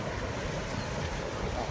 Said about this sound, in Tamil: தண்ணி எவ்வளோ ஃபோர்ஸாக வருது பாருங்கள்.